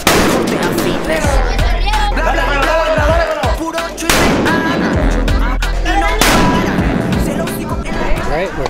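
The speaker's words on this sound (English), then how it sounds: "A lot of explosions going off in the street up ahead." Exploding hammers detonate in the street during a festival in San Juan de la Vega, Guanajuato, Mexico: repeated loud, close blasts over constant crowd noise, loud music and voices.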